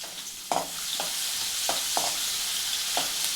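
About ten cloves of crushed garlic fry in hot oil in a pan for capsicum rice bath. The sizzle is bright and continuous, punctuated by roughly five sharp spatula scrapes and stirs.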